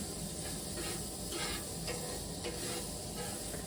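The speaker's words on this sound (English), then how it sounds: "I'm going to take a little bit of butter. We're going to lay it on here. Get that griddle all buttered up." Butter melting on a hot griddle gives a steady, fairly close sizzle with soft crackling bursts for a few seconds, alone without talk.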